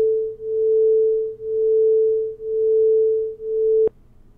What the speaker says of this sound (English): we get constructive and destructive interference, and this results in beating,